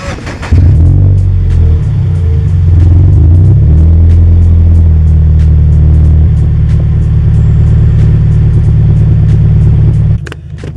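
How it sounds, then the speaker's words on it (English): A car's engine cranks and catches after a performance flash tune, settling into a steady, loud, close idle with deep rumbling that holds for about ten seconds, then cuts off. "I want to give you guys a nice startup of the car."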